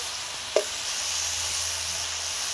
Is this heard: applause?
no